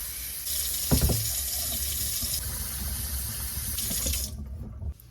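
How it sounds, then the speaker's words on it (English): Tap water runs steadily into a rice cooker pot holding six cups of rice, a continuous close hiss and splash with a brief clunk near the start, then the flow cuts off abruptly. "So I need to fill up water until it reaches the 6 mark right here."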